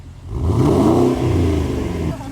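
A Porsche Cayenne Turbo with a newly fitted exhaust revs loudly up close, its engine note climbing and falling through a couple of strong pulls, with no talking.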